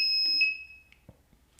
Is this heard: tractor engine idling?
no